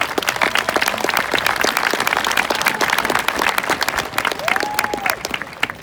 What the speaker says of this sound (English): I want to give a big, big round of applause to all of our parents and supporters